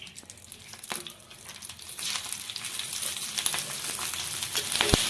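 Green chillies and garlic fry in oil on a flat pan, a soft crackling sizzle that grows louder partway through, with a few sharp pops and no talking.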